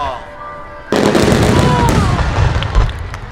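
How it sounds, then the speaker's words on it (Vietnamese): Fireworks at a summer festival in Japan burst loudly after a quiet moment, followed by a sustained crackling rumble and a later deep boom, with voices faintly beneath. "mà ở ngay giữa mùa hè bạn có thể xem pháo hoa tại nước Nhật"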